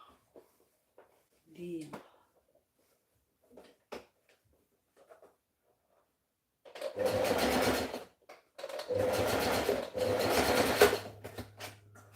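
After a few faint taps and rustles, a sewing machine runs in two steady bursts, a buzzing whir stopping briefly between them.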